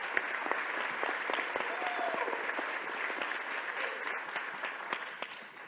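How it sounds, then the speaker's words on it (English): A conference audience applauds a panel at an opening plenary session, a steady, fairly distant wash of clapping that holds for several seconds and thins slightly toward the end, with no voices over it. "So a big round of applause to our fantastic panel."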